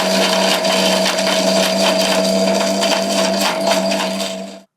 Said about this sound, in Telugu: కొంచెం వేసేసి మిక్సీ పట్టేసేయండి.